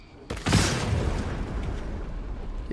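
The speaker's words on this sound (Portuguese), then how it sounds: "Como é que explodiu desse jeito e a fumaça tá aí ainda" A barrel blows up in the video game Baldur's Gate 3, a sudden booming blast followed by a rumbling, crackling tail that slowly fades.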